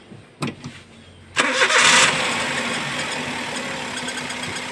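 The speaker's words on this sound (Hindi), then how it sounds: "गाड़ी स्टार्ट कर।" A car engine cranks briefly, then catches and settles into a steady, fairly loud idle, with a few clicks just before in a workshop where an injector is being tested with a sensor tester.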